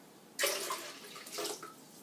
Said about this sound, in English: cup of vegetable broth